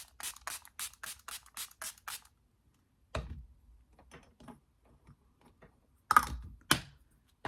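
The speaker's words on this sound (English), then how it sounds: "then I'm gonna do my setting spray" A makeup setting spray bottle is pumped in a rapid series of about eight short, crisp spritzes, followed by a pause, soft handling noises and a couple of further mist bursts.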